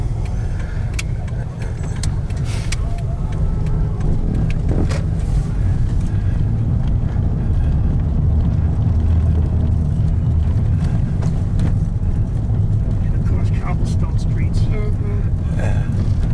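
A car drives along a city street near Schiller Park in Columbus, Ohio, with a loud continuous low engine and road rumble and occasional thumps and rattles from bumps, while people talk inside.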